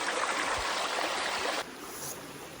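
A wilderness creek flows with a steady close rushing hiss that drops abruptly to a quieter trickle partway through, with no voices.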